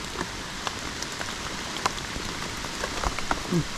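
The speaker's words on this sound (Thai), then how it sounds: "ฝนตกจังทีเนาะ" Heavy rain pours down outdoors during a storm, a dense steady hiss with scattered louder drops and splashes hitting nearby surfaces.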